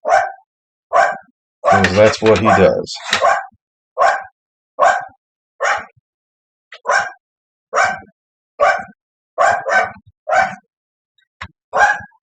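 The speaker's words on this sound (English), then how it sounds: "my dog is upstairs barking, probably at a leaf blowing down the street" A dog barks upstairs in short repeated bursts, about a dozen spaced evenly, with a longer run of yips and whines in the middle; someone speaks briefly between barks.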